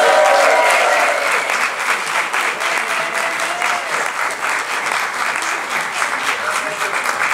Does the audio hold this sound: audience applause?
yes